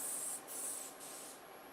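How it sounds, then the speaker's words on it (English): Crisco pan release cooking spray hisses from an aerosol can over a kitchen sink in a couple of short, close bursts, bright and airy, with no talking. "I'm just gonna give this a spray. This is just some pan release Crisco"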